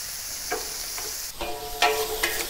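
Shrimp stir-frying in a hot wok, a steady sizzle with a few sharp scraping stirs of the spatula, the frying growing louder and busier partway through.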